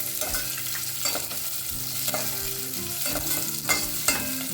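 Beans and carrots for vegetable pulao sizzle in a hot pan with whole spices, as a spoon scrapes and stirs them in several close, uneven strokes.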